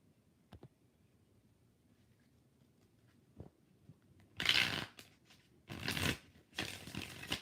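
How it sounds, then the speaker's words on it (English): Purple tarot deck being shuffled by hand during a live reading: a few faint taps early, then three loud bursts of riffling card noise, each lasting about half a second to a second, close and alone without talk. "Five shuffles for LZ."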